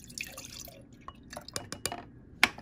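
One percent milk is poured into a medium-sized Ball glass jar, giving scattered close drips and splashes with a few sharper glassy ticks in an otherwise quiet kitchen.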